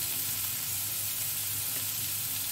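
Sliced onions with salt fry in a pan, giving a steady, dense sizzle that stays even throughout with no talking.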